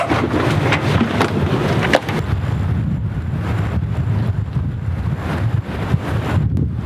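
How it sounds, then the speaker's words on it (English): Dust storm wind roars in heavy, unbroken gusts against the microphone at a free campsite on an Australian road trip toward Kununurra, loud and close throughout with occasional sharper buffets. "Has to go out and check out the dust storm, he reckons."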